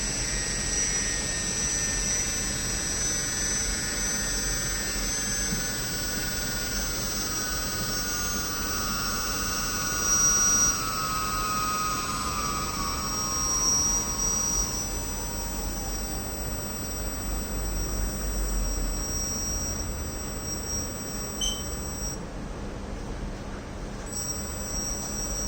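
A BLDC motor spins at high speed on a LEO converter controlled by an Atmega board, giving a steady high-pitched whine over a constant hum, with shifting tones and no talking.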